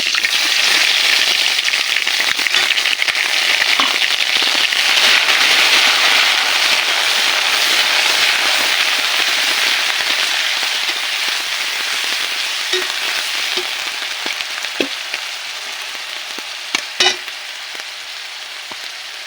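Onion and garlic paste hits hot oil and fries with a loud, steady, close hiss that slowly fades over time, with scattered pops and a few stirring clicks.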